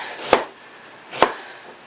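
An onion diced on a cutting board, two sharp knife chops about a second apart, close and crisp with quiet between.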